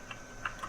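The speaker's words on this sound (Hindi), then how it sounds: "कीबोर्ड से एंटर प्रेस करें।" Enter key pressed on a computer keyboard, a few soft, close taps in quiet room tone.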